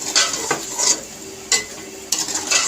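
Chicken being stirred in a metal pan, a spoon scraping and clinking in several quick strokes over a steady sizzle, close and loud, with no voices.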